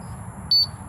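A handheld oxygen meter sounds one short, high electronic beep of its low-oxygen alarm over a quiet background hum.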